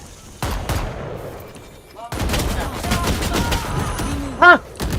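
Shotgun blasts in a video game: a sharp report opens, then a loud, continuous stretch of gunfire and impacts, with voices speaking briefly over the action.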